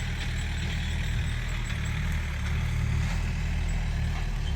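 Tractor plowing wet, soggy field soil, its diesel engine droning steadily at mid distance with a constant low rumble and no voices.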